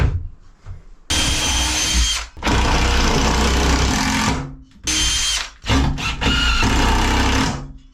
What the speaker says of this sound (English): We're going to do 2 screws per stud, and go ahead and use 3-inch screws if you don't have any drywall.